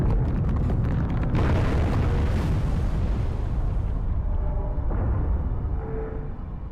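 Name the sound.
explosion in modded Halo 3 video game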